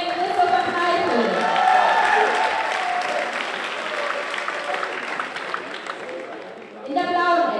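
A crowd at an MMA event applauds a fighter's introduction with dense, sustained clapping that fades slightly before a short swell at the end, with music or voice running underneath.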